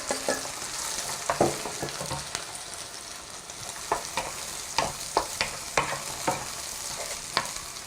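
Rice stir-fried in a hot pan for Korean-style egg fried rice with green onion oil, a steady sizzle broken by repeated sharp scrapes and clanks of a utensil against the pan, close and alone with no talk.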